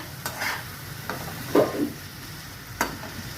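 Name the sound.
spice masala being fried and stirred in oil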